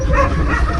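A dog close by lets out a short whimpering yelp, a brief high whine with a bark-like edge.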